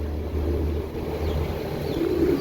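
Pigeons offered for sale as a pair coo softly amid a low steady background rumble, with a few faint call notes over a short stretch and no talk.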